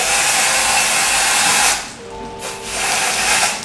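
A hair dryer blows a steady, loud stream of air onto a synthetic lace front wig, dipping briefly quieter partway through before returning to full strength, with no talking.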